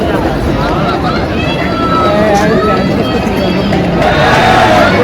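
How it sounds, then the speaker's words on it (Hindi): Large crowd packed in the queue at Ujjain's Mahakaleshwar temple, a dense continuous babble of many voices, loud and close, with chatter from all around. "और बहुत ही ज़्यादा भीड़ थी"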